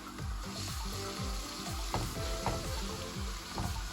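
Ginger and garlic sizzling in a hot pan as they are stirred, a loud, close frying hiss with rhythmic scraping strokes of the spoon repeating about every half second.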